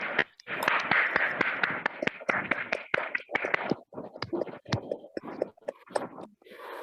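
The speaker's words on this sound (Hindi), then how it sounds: "जोरदार तालियां हो जाए अपने खुद के लिए।" A small meditation group claps for themselves in a room, a brisk run of close, uneven handclaps that slows and thins toward the end, with a few voices mixed in.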